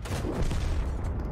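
An explosion in a tank video game, a dense, low, rumbling blast that fills the whole short moment with a rough roar and no clear start or end, with no voices.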